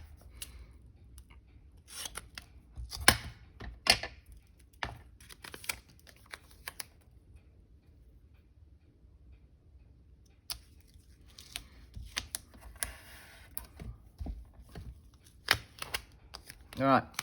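Scissors trim paper for a handmade journal in short, scattered bursts of snipping and rustling, fairly faint and close, with quiet stretches between cuts and a voice talking now and then.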